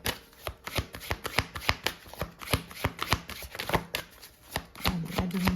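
Tarot cards shuffled by hand, a fast run of crisp riffling slaps and flutters in quick irregular rhythm, close and clear with no talk.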